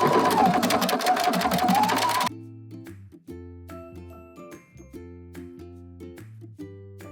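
Sewing machine running a fast, steady stitch across the corner of a fabric drawstring bag for about two seconds, close and loud, then stopping, followed by soft tinkling background music.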